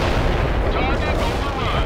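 Artillery fire in a World in Conflict battle rumbles as a dense, continuous roar of booms and blasts, loud and unbroken for a couple of seconds, with radio voice chatter mixed in.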